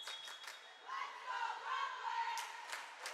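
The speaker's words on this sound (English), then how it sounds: "as you hear, it's the Brooklyn College cheerleaders cheering from the stands" Cheerleaders cheer from the stands at a women's college volleyball game in a gym, a sustained chant of rising and falling voices with sharp claps or thuds, moderately loud and steady.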